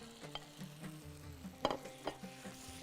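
Shrimps stirred into cooked tomatoes in a hot pan for Bahraini massli rubyan, with a soft steady sizzle under intermittent scraping and clinking stirs, fairly quiet and close.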